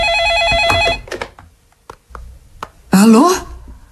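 A telephone bell rings loudly for about a second at the start, then scattered household knocks and a brief voice follow, with a person speaking near the end.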